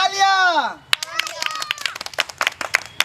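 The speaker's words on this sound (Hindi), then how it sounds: "तालियां।" A crowd claps at a Republic Day gathering, bursts of close, lively clapping in an uneven patter that comes right after a voice speaking.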